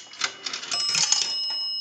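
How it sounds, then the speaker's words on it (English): A nickel clatters through the coin chute of an Automatic Electric three-slot payphone with a few quick clicks, then a single bell tone rings and hangs steadily, heard up close without voices. "A nickel will ring the bell once."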